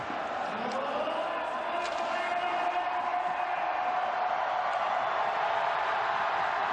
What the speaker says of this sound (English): Listen to this crowd as we take you in to the last minute of play